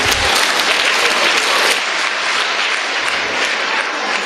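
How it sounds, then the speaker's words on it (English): Audience applause at a science quiz event, dense and steady throughout, a loud crowd clapping with no voices over it. "give him a big round of applause, please"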